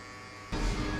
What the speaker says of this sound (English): So flick the clipper out as usual.